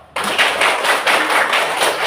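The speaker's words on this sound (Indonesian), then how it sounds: "Tepuk tangan dulu." A class of students claps together during a gymnastics lesson, a dense, steady burst of many hands sounding close and loud for about two seconds after a brief quiet start.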